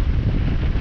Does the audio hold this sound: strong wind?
yes